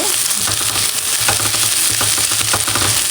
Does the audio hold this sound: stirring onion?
yes